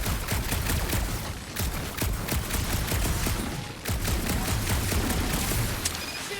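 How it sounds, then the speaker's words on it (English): Gunfire in the Marvel's Guardians of the Galaxy video game: a loud, unbroken barrage of rapid shots that dips briefly twice before resuming at full intensity. "Shooting your way out of every problem again, Peter?"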